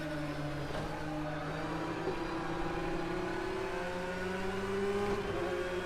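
Porsche 911 GT3 race car engine accelerating in the Project Cars 2 racing game at Long Beach, a continuous droning engine note with gradually shifting pitch, steady and moderately loud with no talk.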